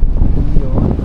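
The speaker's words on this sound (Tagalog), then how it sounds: "Ang hangin" Steady gusting wind buffets the microphone at a beach on Grand Cayman, a low roaring rush with no clear voices.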